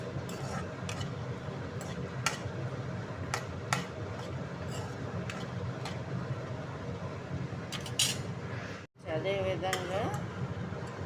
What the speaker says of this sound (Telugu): ఇది నేను 2 కలిపి ఫ్రై చేస్తున్నాను అన్నమాట